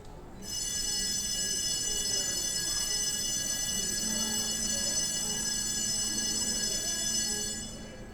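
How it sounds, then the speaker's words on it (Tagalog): A hotel emergency paging and alarm system sounds during a test, a steady high-pitched multi-tone ringing that holds loud and continuous for about seven seconds over a murmur of background chatter before cutting off. "this is a test of our emergency paging and alarm system to ensure your safety and security"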